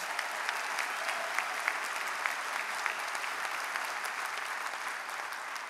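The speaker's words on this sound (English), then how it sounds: "Give the Lord a hand clap of praise." A church congregation claps in praise, a dense, steady wash of many hands applauding throughout at moderate loudness.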